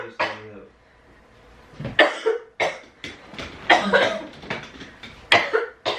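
Deliberate, exaggerated coughing played as a prank: several harsh, close coughs and throat-clearing bursts come in uneven clusters with short pauses, and voices are also present.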